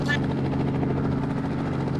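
Helicopter in a theft-themed Indian open-world simulator game, its rotor and engine giving a steady, dense droning roar across the whole brief stretch, with a voice talking briefly at the start.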